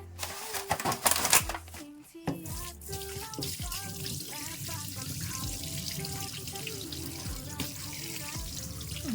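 A whole tilapia is rinsed under a running kitchen tap before salting and frying. The water runs steadily with splashing and handling noises, loudest in the first two seconds.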